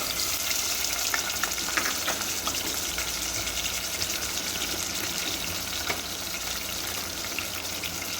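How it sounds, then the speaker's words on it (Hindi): Mutton fries with browned onions in a pot, a loud, dense, continuous sizzle and crackle with occasional stirring scrapes, close up and without talking. "अब इसमें हम गोश्त ऐड कर देंगे।"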